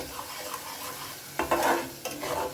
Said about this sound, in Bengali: টমেটো দিয়েও খুব ভালো করে আমার এটা মেশানো হয়ে গেছে মশলার সাথে